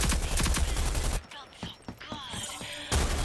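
Gunfire in the online shooter Rogue Company, with a loud burst of rapid shots at the start and another at the end, separated by quieter game effects and scattered sharp pops.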